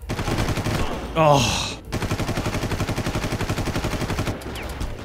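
Rapid automatic gunfire from enemies shooting at the player in a Far Cry video game, steady rattling bursts with a brief break, a man briefly exclaiming over it.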